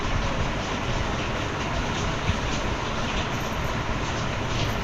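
A train rumbles by steadily at close range, its broad continuous roar holding level throughout with no voices over it, heard near a line of people waiting for the Jeevdani temple ropeway.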